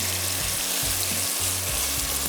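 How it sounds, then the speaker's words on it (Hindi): Chicken fries in hot oil over a high flame for a karahi dish, giving a dense, loud, close sizzle with soft low bumps from the pan. "तेज़ आंच पे फ्राई करेंगे"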